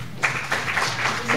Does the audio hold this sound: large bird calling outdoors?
no